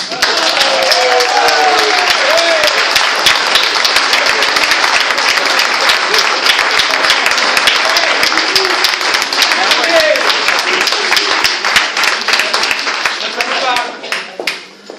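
Loud, sustained audience applause at a club's Age d'or gathering for a member, dense continuous clapping from a crowd that fades out at the end.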